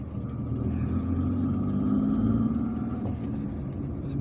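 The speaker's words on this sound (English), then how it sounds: "now we're going to continue driving towards the area of the museum" A car driving through the streets of Algiers, a steady low engine drone and road rumble heard from inside, loud and continuous with faint higher noises from traffic outside.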